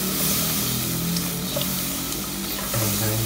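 A milk and wheat-flour mixture is stirred in a sizzling hot pan, giving a loud, steady frying hiss with soft scraping of the spoon, close up and without talk.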